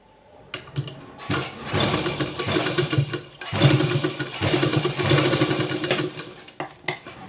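A sewing machine stitching elastic onto a raglan sleeve runs in several close, loud bursts of rapid mechanical whirring, separated by short pauses and ending with a few brief clicks.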